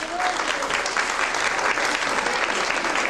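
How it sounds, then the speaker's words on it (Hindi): Audience applause at an Independence Day (Jashn-e-Azadi) Pakistan gathering, a steady, dense wash of clapping from many hands that holds evenly throughout without letting up. "आप लोग आवाज बुलंद के तालियां बजा के जवाब दें।"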